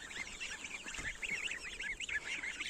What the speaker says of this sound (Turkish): Kazlarımızı çıkardık.